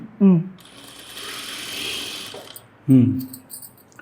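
A sewing machine stitches a churidar hem over a folded half-inch edge, giving a soft, steady whir for a couple of seconds between short spoken phrases from someone talking nearby.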